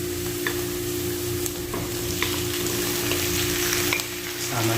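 Chicken gizzards and liver sauté in a pan with garlic and onion for a chicken adobo, giving a steady close sizzle with occasional scrapes of stirring throughout, no voices.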